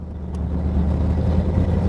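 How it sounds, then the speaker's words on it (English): 1952 Ford pickup with a 351 Cleveland V8 and side exhaust, a steady, deep, rumbling drone while cruising down the road, close and continuous. "Listen to that exhaust sing. I love the side exhaust on this truck. It's got an awesome sound."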